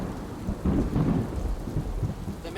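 Rain with rolling thunder, a steady wash of rainfall under low rumbling thunder that swells and fades, no voices.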